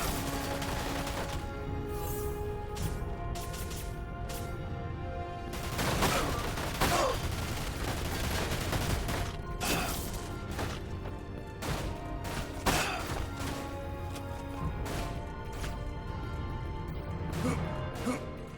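Rapid bursts of gunfire and crashing impacts from the video game Dirge of Cerberus: Final Fantasy VII, loud and dense, with repeated sharp volleys throughout and no talk.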